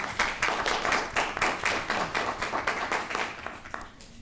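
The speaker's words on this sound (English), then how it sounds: "Round of applause for Julia." A round of clapping at a school board of education meeting, for a student of the month, moderately quiet with individual hand claps distinct in a fairly rhythmic, lively patter lasting a few seconds before thinning out.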